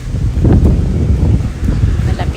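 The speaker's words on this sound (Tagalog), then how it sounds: "Mahangin, cloudy." Cool autumn wind gusting through a public garden on a cloudy day, a loud low rumble of buffeting against the microphone with rustling swells that rise and ease, and no talking heard.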